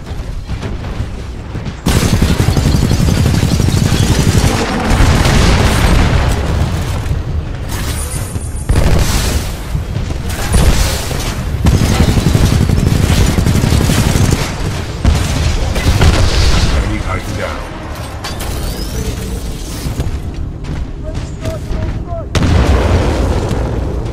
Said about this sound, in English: with the Tome loadout, we can lock onto enemies and target them with tracking rockets